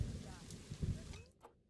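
Rain falling in the Planet Zoo video game, a soft steady wash of rainfall that stays faint and fairly close, with short muffled rumbles underneath.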